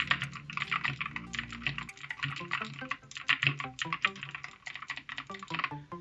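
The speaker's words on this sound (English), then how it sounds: "I'll go ahead and do some fake typing so you can get an idea of what it sounds like" Rapid, loud clicky keystrokes from a DIERYA DK63W mechanical keyboard with blue switches, typed in quick uneven bursts with no talking.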